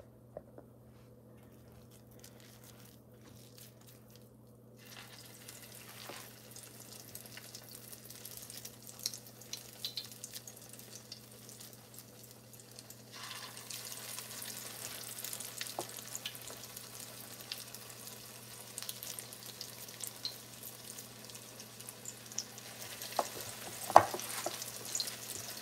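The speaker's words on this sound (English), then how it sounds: "putting them in the skillet because my grease is bubbling over here" Salmon patties fry in bubbling grease in a skillet, a soft, continuous sizzle that is faint at first and grows livelier with scattered pops and crackles, with no talking.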